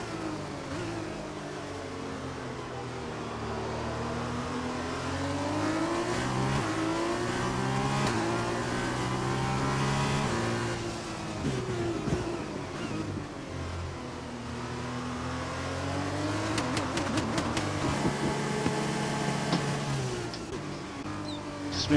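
Racing cars in a Formula 2 style video game at the Azerbaijan circuit rev and accelerate continuously, engine pitch sweeping up and down through gear changes, loud and close with overlapping cars and no speech.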